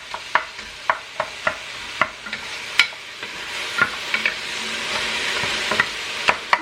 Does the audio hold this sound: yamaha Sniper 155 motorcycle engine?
no